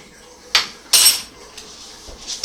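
A spoon clanks twice against a metal pot while stirring a chicken and cornstarch gravy, two bright close knocks followed by fainter scrapes.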